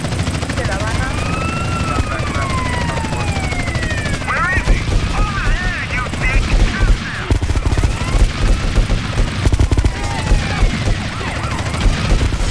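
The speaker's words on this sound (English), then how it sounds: "shoot the bastard. Hey, shoot." Automatic gunfire in GTA San Andreas with an underground mod, dense rattling bursts mixed with a helicopter drone and booms during a chaotic five-star police chase, with someone talking over it.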